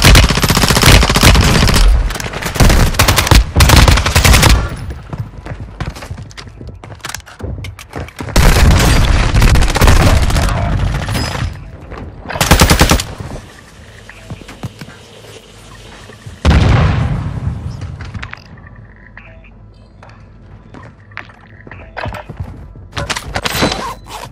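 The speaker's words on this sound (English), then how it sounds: "Taking effective fire!" Gunfire in the video game Warzone 2 on Ashika Island: loud bursts of automatic fire and booming explosions, repeated in clusters with short pauses, fading to quieter distant shots.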